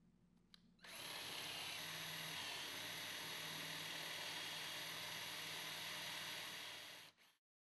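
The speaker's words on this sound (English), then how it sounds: "Drill a 5/8-inch diameter hole" A power drill runs continuously at high speed for several seconds, boring a 5/8-inch hole 1/2 inch deep; a steady, loud whine with no talking.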